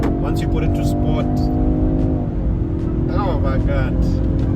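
A Range Rover Sport accelerates in sport mode, its engine drone holding steady, then dropping pitch partway through, under continuous talk from inside the cabin.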